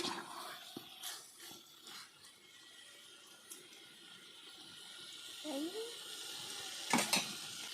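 Chicken fries in oil with a steady sizzle, low and continuous, with occasional clinks and stirring noises of a pan and utensils.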